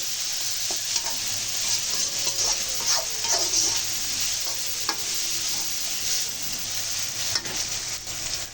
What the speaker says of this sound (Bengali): পেঁয়াজ কাঁচামরিচ আর এই টমেটো একটু তেলে ভাজা ভাজা করে নিতেছি